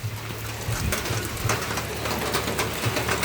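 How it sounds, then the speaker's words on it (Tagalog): Heavy rain falls steadily in the Philippines, a constant close hiss of drops on surfaces with faint bird calls in the background and no voices. "Mainit na lakas ng ulan."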